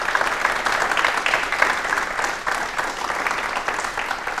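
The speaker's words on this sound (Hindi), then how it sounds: "एक बार तालियां हो जाए भाई आपके लिए।" Applause from a studio audience of young students at a Rajasthan television talk show, a dense, steady wash of many hands clapping throughout, fairly loud and close, with no talk over it.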